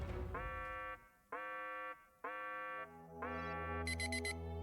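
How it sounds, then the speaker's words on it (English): A piercing electronic siren in a game scene, loud repeated harsh buzzing blasts with short gaps between them, ending in a rising tone and layered shrill beeps. "A piercing siren cut through the air."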